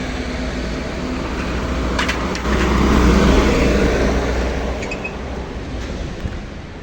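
A motorbike that has just collided with a dog pulls away slowly, its engine swelling into a louder steady drone and then fading with distance, no talk over it.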